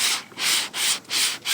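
Rhythmic back-and-forth scraping of a hand sanding block across body filler on a 1966 Mustang, four strokes in steady succession, close and loud.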